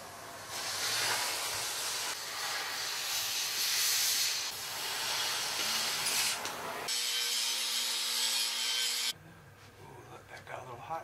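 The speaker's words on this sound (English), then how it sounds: "See, kids, you gotta watch out when you're torching." A torch roars steadily with a loud, breathy hiss while heating metal tubing for a front bumper, shifting to a harsher, purer jet of flame midway before cutting off abruptly, followed by quieter handling noises.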